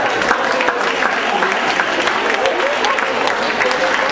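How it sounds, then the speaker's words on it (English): Seminar audience giving themselves a round of applause, a loud, dense, even wash of clapping from a sizeable crowd filling the room throughout. "Give yourself a round of applause."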